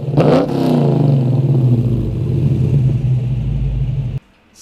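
A Dodge Charger R/T fitted with JBA long tube headers revs hard close by, a deep, loud rumbling roar that swells and holds for several seconds before cutting off abruptly.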